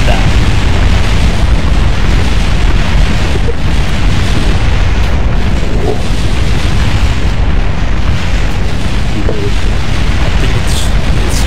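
A huge MK3 liquid fuselage blows up in Kerbal Space Program, a loud continuous roaring blast with a rumbling low-end wall that persists for many seconds, buildings being destroyed in the aftermath.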